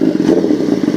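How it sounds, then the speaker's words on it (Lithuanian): A motorcycle engine idles loudly and close by in a steady, throbbing low rumble, with no talk over it. "Užkuria motociklą. Motociklas dirb, o ne?"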